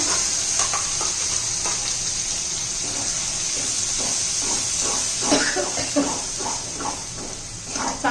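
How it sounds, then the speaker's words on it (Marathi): Ground masala paste with turmeric frying in hot oil for a Marathi fish curry, a steady loud sizzle and hiss with faint scraping of a spoon stirring through it. "चांगला आता तेल सुटेपर्यंत हा मसाला परतून घेऊया"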